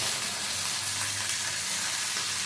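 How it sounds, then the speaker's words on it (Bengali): Bori lentil dumplings fry in hot oil in a pan, giving a continuous, even sizzle and crackle that holds steady throughout, with no voices. "কষে বড়ি ভাজবো।"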